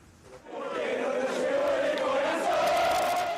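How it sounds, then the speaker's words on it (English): Outside a private clinic in Buenos Aires, a crowd of Maradona's fans chants and cheers, a broad, steady roar heard from a distance that swells in after a quiet start and holds to the end. "Fans gathered outside a private clinic in Buenos Aires to cheer his name"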